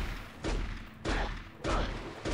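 Gunshots in the shooter Turok: Rage Wars, three or four heavy blasts about half a second apart, each a loud burst with a short decaying tail.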